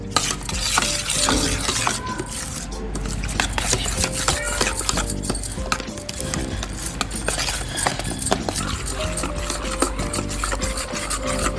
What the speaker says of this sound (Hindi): और इनको अच्छी तरह मिक्स करेंगे ऐसे।